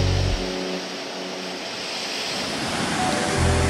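Small ocean waves break cleanly at a surf point as the wind drops, making a steady wash of surf. A deeper rumble opens the clip and another closes it.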